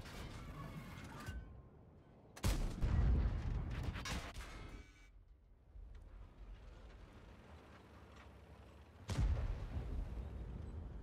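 A TL-7 tank cannon firing a clip in World of Tanks, several heavy booming shots with mechanical reload clanks and creaks between them, loud and close, the last blast arriving after a long pause.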